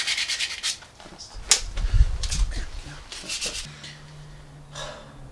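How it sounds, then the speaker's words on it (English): Hand sanding of a car wiper blade arm, with short rough rubbing strokes that come in uneven bursts, close up and fairly loud, alongside light handling noises. "While that's warming up, we can finish sanding this wiper blade"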